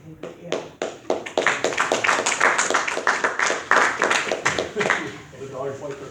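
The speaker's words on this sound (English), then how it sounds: "The dog's like they're clapping for me" Members at a Lions Club meeting break into applause, a few scattered claps building into dense, steady clapping that holds for several seconds before tapering off, close and fairly loud, with voices mixed in.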